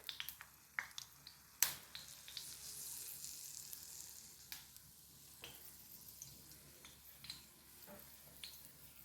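Green chillies sizzle and crackle in hot oil for pickle, a steady quiet hiss broken by sharp pops and ticks, close by with no talking.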